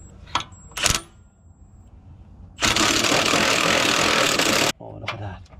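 A small cordless impact gun with a socket drives on a rusted stud, a loud sustained two-second buzzing rattle preceded by a couple of short clicks and followed by softer handling noise.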